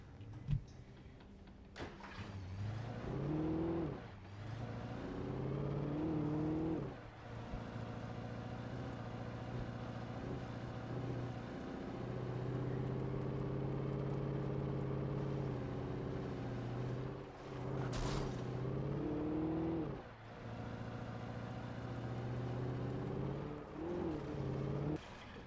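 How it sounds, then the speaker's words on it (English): Car driven in the video game Alan Wake Remastered, a steady engine hum that rises and falls in pitch as it accelerates and shifts gears, with occasional bumps and knocks over a long, continuous drive. "Car."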